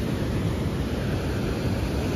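Water surges and splashes at a shoreline where fish are being hunted, a dense, steady roar of surf and wind rumble filling the whole moment with no talk.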